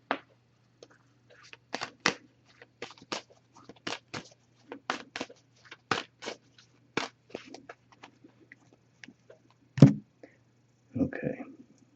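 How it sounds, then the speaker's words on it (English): Tarot deck of oracle cards being shuffled, a run of crisp riffling slaps and taps repeated in short bursts, close and fairly quiet, with a louder thump near the end and no talking. "So I'm just going to give this a few shuffles."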